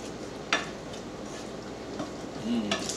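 Spoon stirring Puerto Rican beans simmering in a pot over medium-high heat, with soft scraping and a few metallic clinks against the pot over a low steady bubbling background.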